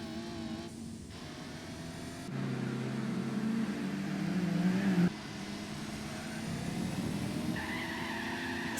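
A Honda City Turbo II engine in the racing game Gran Turismo 4 drones steadily and shifts pitch as it accelerates through gears. The engine note is loud and continuous, with a jump in tone partway through and no speech.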